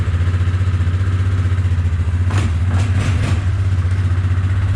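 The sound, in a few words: truck engine warming up on choke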